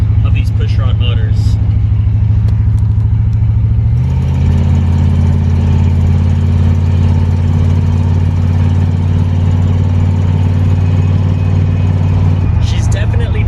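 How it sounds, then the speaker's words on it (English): A 1968 Ford Mustang Fastback's 289 pushrod V8 rumbles close by at a steady, deep idle, then steps up to a slightly higher, busier pitch that holds for several seconds before settling back down. "just like to turn off the music sometimes and just listen to the authentic raw power of these pushrod motors"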